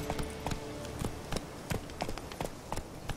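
Horse galloping in the video game The Witcher 3, heard as quick, rhythmic hoofbeat taps repeating evenly over a steady background.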